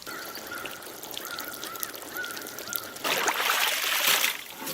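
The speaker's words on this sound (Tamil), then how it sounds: "தண்ணியை மட்டும் கொஞ்சம் வடிச்சுட்டு போட்டுங்க" Cooking water drained off a pot at an outdoor village cooking spot: a steady splashing pour swells in over the last couple of seconds, following a quieter stretch with a thin tonal call in the background.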